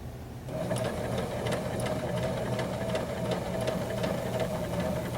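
A sewing machine runs steadily while staystitching a single piece of garment fabric at a regular 2.5 stitch length, producing a fast, even mechanical whir with rapid ticking, close and unbroken after a brief start.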